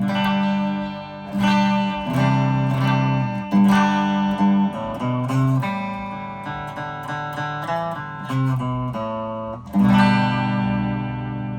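Dry, clean electric guitar from a Gibson Les Paul Classic through a Fender Champion 100 amplifier, playing a varied phrase of strummed chords and single notes with short pauses, close and steady for about eleven seconds.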